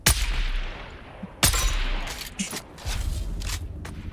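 Gunfire in the Dune Awakening video game during deep desert PvP, with loud sharp bursts at the start and around the middle, then further shots and rattling exchanges over a busy background.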